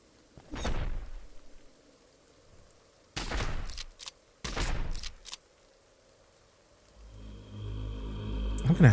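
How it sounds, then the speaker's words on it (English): Gunfire bursts from the video game Heart of the Machine, a few sharp loud volleys in separate clusters with quiet gaps between, followed by a low rumbling game sound at the end. "Looks like the sledge is shooting a guy."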